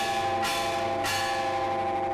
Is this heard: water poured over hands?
no